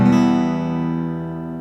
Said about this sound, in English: It's a lovely sound there, nice minor chord sound.